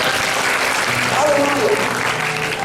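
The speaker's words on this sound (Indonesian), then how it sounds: "Dengan tepuk tangan buat Tuhan." A church congregation applauds during a Good Friday sermon, steady broadband clapping filling the whole moment at close range, with faint tonal music or voices drifting underneath.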